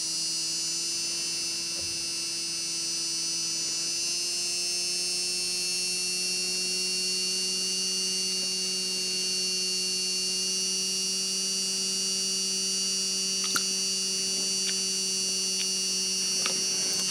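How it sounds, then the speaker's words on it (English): A small electric motor runs on a homemade emergency power supply, giving a steady, unbroken whine and hum that holds for the whole stretch with only faint clicks and no talking. "so that little motor was pulling something like 200-250 milliamps."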